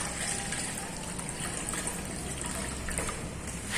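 Water pours steadily into a metal wok with a continuous splashing gush, close by and even in level, rising briefly at the end.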